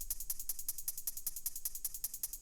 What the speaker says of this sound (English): the gated reverb sounds like this